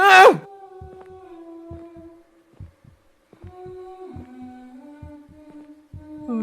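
Heartbeat in the Roblox horror game The Mimic: a slow, evenly spaced series of low thumps under an eerie sustained wailing drone, with a sharp cry at the start.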